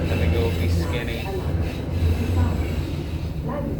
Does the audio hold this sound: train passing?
yes